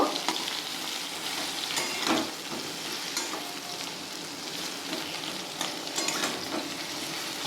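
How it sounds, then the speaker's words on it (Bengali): Eggplant pieces are turned and fried in hot oil to redden them, giving a continuous, moderately loud sizzle broken by soft scraping and stirring knocks. "বেগুনগুলোকে আমি উল্টে পাল্টে লাল লাল করে ভেজে নেব"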